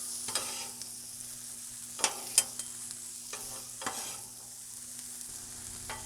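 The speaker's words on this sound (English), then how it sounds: "let that butter melt down" Butter melts and sizzles softly on a flat-top griddle, a faint steady frying hiss broken by a few light scraping and stirring clicks from a spatula, with no voices.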